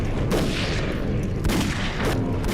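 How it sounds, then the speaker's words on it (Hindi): Gunfire sound effect of soldiers opening fire in a battle scene, a rapid volley of several sharp cracking bursts over a rumbling low background, fairly quiet overall. "फिर अचानक बंदूकें निकालकर गोलियां चलानी शुरू कर दी।"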